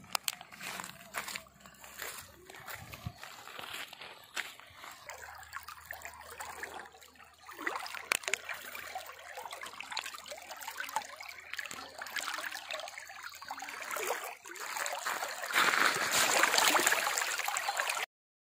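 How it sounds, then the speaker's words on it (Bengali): A shallow river current trickles and gurgles over stones outdoors, a soft, uneven flow with occasional rustling and crunching nearby, growing slightly louder toward the end. "একটু জলের মধ্যে স্রোত যেতেছে"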